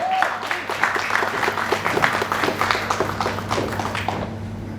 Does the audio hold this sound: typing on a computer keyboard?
no